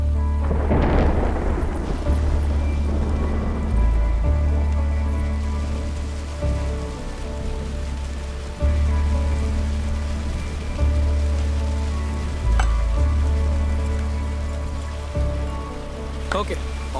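Heavy rain pours steadily, loud and close, with a low rumble of thunder near the start and a constant dense hiss continuing throughout, and no voices heard.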